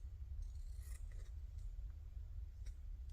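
Scissors snipping around a piece of tea-stained fabric, a few quiet crisp cuts and scrapes spread sparsely over a low steady background hum.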